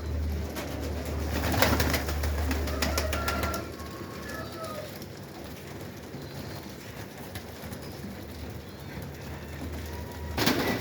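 Breeding pigeons in a loft coo and rustle, with soft calls scattered through and a louder burst of movement early on, heard close up over a low background rumble.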